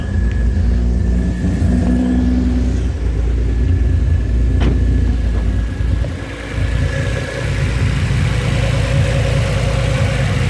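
An Infiniti G35 engine idles with freshly fitted 600cc fuel injectors and no tune yet, a steady low rumble close by with a slight unevenness and one brief dip midway.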